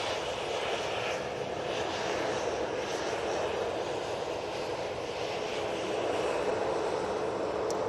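An airliner departing Manchester Airport bound for Agadir gives a continuous, fairly distant jet engine roar with a faint whine, steady throughout and free of talk.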